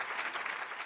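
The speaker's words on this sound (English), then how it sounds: "A round of applause." Brief burst of audience applause in a studio setting, a steady wash of clapping hands at moderate level, alone without voices, lasting under a second.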